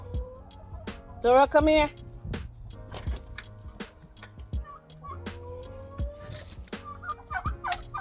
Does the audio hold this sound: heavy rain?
no